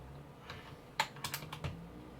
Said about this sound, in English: if I just pull the number 3 key off